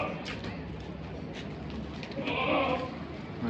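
A Kota Malwa goat gives a short bleat or two, close and moderately loud, over a soft background hiss.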